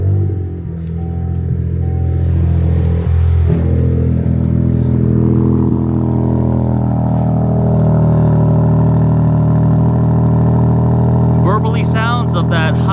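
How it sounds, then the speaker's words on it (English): A 2026 Dodge Charger Scat Pack's high-output Hurricane inline-six starts and settles into a loud, steady, burbling idle heard from close by, with a voice speaking briefly near the end. "Burbly sounds of that high output Hurricane Inline 6."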